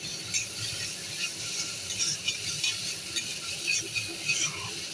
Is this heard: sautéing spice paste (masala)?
yes